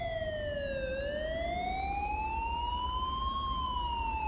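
Ambulance siren in the GTA LSPDFR police mod, a loud wailing tone sweeping down and then slowly rising again, steady and continuous over a low engine rumble.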